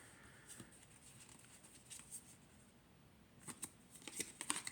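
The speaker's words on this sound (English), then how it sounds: "go ahead and flip through all the cards so you can see the images on the back and their meanings" Kuan Yin Oracle pocket edition cards are flipped through by hand: soft, quiet papery flicks and snaps in an uneven rhythm that grow busier and more frequent toward the end.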